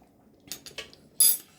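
A metal spoon clinks a few times against a multicooker pot of loaded potato soup during tasting, with light scraping taps and a brighter final clink, close and fairly quiet.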